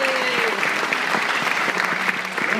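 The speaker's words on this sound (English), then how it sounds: "ladies and gentlemen, give a round of applause" Warm applause from a stand-up comedy audience in Lincoln, steady dense clapping throughout, with some voices and cheers mixed in.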